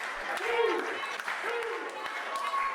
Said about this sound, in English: This crowd trying to fire up Jack Connor.